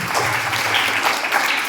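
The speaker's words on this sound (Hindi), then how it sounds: "हाँ ताली लगाओ सभी" Applause from a temple audience at a Jain monk's religious discourse in Delhi: dense, steady clapping of a crowd, sustained and fairly loud throughout the short burst.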